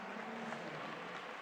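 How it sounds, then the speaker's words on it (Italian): Quiet, distant crowd applause for basketball player Rudy Valenti as he heads to the bench during an Italy versus Croatia game in 2008; an even, sustained patter of clapping. "Meritati gli applausi per Rudy Valenti"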